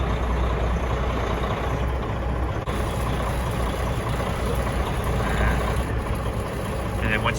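A truck idles and creeps slowly in reverse toward a building, its engine a steady low drone under a voice talking, with a brief sharp click partway through.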